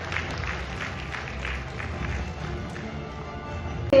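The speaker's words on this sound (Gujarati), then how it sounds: "તાળીઓના ગડગડાટ સાથે એમને આ પુરસ્કાર આપીશું." An audience applauds at the Gujarat Media Awards ceremony, a steady patter of clapping from a crowd in a hall, moderately loud and sustained, ending with a brief louder burst.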